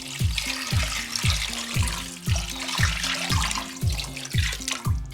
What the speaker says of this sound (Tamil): இந்த பாத்திரத்தில் இப்போ தேவையான அளவு தண்ணி ஊற்றிக்கலாம்.